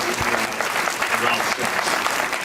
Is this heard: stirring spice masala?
no